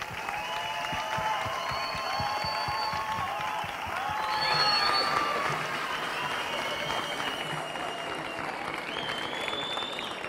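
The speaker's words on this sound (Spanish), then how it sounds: "Recibamos con un fuerte aplauso a Joaquín Talaya Pérez." A crowd claps loudly and steadily to welcome Joaquín Talaya Pérez at the 2019 patron saint festival proclamation in Quintanar del Rey, with faint whistles or tones running through it.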